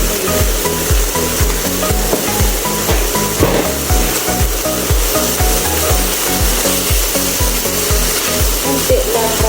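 A spoon scrapes and stirs through a chicken kofta mixture in a rhythmic, repeated pattern, close and fairly loud, with no talking over it.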